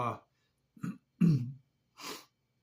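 Close, quiet sniffs and a short throat clearing in a few brief bursts separated by silence.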